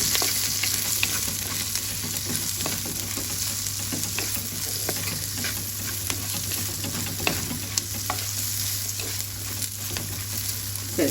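Ingredients frying in a pan while being stirred and mixed, a continuous close sizzle with scattered scraping and clicking strokes and a low steady hum beneath, no talk.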